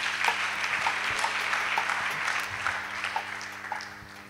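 A church congregation bursts into loud, sustained applause, a dense wash of many hands clapping at once, steady from start to finish with no voices on top.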